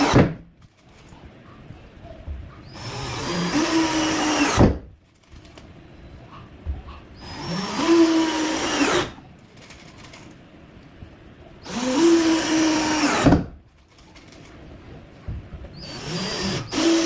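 Dongcheng electric drill driving screws into the wood of a bed frame during a storage-lift mechanism install, four bursts of whirring a few seconds each, separated by quieter pauses.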